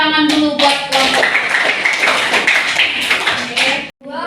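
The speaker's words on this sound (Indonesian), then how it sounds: "kita kasih tepuk tangan dulu buat kelompok" A small classroom group claps together, bright close hand claps with some voices audible underneath, then cutting off abruptly near the end.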